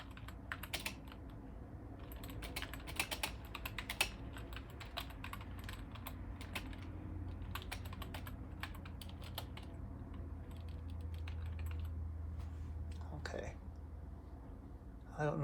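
Someone types on an Apple G4 Cube computer keyboard in quick, uneven bursts of close, crisp key clicks over a low steady hum, pausing briefly and then resuming, with a brief louder rattle near the end.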